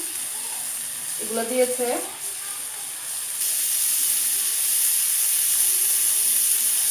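Green chilli, carrot, peas and tomato sizzle in a pan as they are stir-fried, a soft, steady hiss that grows louder in the second half, with a brief spoken phrase early on.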